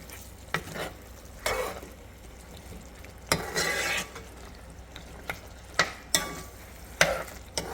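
Thick sadza stirred in a pot: a handful of separate scraping, squelching strokes of a spoon through the dense maize porridge, irregularly spaced, soft and close with no voices.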